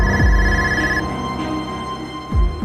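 An electronic phone ring tone trills steadily at close range, a sustained melodic ringing with a couple of low thumps, no voices.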